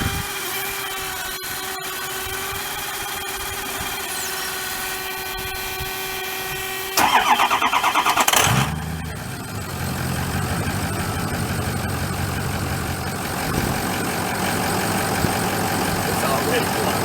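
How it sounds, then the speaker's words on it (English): A truck, fresh from an oil change, cranks over and catches, a loud brief start followed by a steady mid-pitched diesel idle that runs on with someone talking over it. "We're going to go ahead and give it a start."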